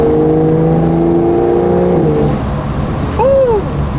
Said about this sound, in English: Hopefully you can hear the active exhaust that I have in the back right now,